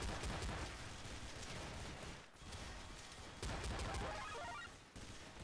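Gunfire in Counter-Strike: Source from a player with a shotgun in the spawn area, a quiet, busy spray of repeated shots and bursts with brief pauses, no voices.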